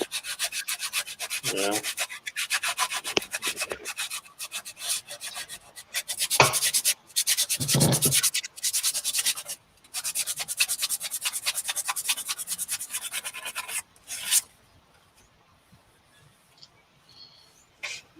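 Wood is sanded by hand with sandpaper in long, rasping strokes that come close and repeat rhythmically, with brief pauses, and the scraping stops near the end; a short spoken word is heard.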